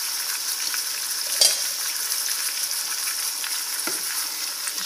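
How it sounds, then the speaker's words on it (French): Lamb tajine with saffron threads and a cinnamon stick being stirred over a soft, continuous sizzle, with a sharp clink of a utensil against the pot and a quieter scrape later, close by, with no talking. "Je vais mélanger l'ensemble"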